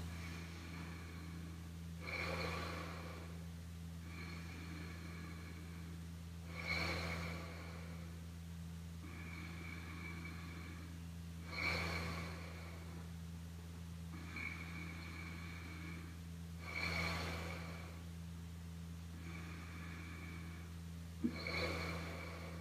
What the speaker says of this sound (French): Profonde respiration.